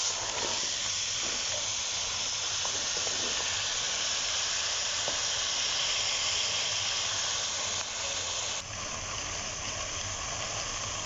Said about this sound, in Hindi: ये देखिए माशाल्लाह हमारी सब्ज़ी जो है घी में, ऑयल में फ्राई हो रही है।